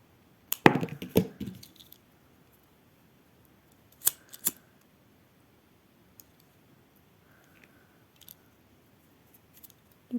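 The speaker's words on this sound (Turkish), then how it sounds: "İpimi kesiyorum" Scissors snip through thread while crocheting an amigurumi doll, a few sharp clicking cuts near the start and a couple more midway, close and fairly quiet against a silent room.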